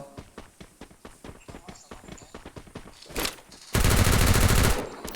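Video game gunfire: rapid bursts of shots in quick succession, then a louder sustained volley near the end, sharp and close.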